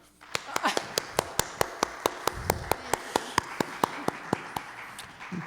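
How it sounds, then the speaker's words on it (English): A played clapping sound effect at a small COVID PSA gathering: a regular series of about twenty crisp, evenly spaced claps rising in prominence after a soft start, with faint room sound behind. "cue the clapping"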